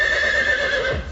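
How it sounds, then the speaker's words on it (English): A horse gives a loud, sustained whinny close by, the call trailing off at the end with a faint thud. "check my new horse."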